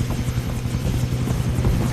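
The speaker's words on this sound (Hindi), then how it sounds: "हेलीकॉप्टर में चढ़ जाऊं?" A helicopter in the video game Far Cry 3 thrums with a steady, loud rotor chop and low engine drone that holds without pause for a couple of seconds.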